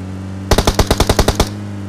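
Automatic gunfire from PUBG Mobile rattles off in one loud burst of about ten rapid shots, evenly spaced over roughly a second, over a low steady hum.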